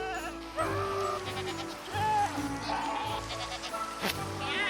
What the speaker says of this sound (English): I think we just found a screaming goat.